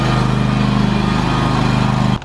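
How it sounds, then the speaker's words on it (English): A lawn tractor with a trailer attached runs steadily close by, its low engine drone holding constant before cutting off abruptly at the end. "Aaron's gonna get the lawn tractor with the trailer attached so we can do it quickly"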